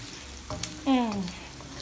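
A pepper and tomato mixture fries in a pan with a steady sizzle under brief scraping stirs, and a short voiced sound rises over it midway.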